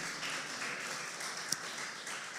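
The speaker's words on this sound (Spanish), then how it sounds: "Si usted está contento, dale una ofrenda de palmas al Señor" Steady applause from a church congregation, a dense and even wash of many hands clapping together that holds for a couple of seconds, with one sharper clap standing out near the middle.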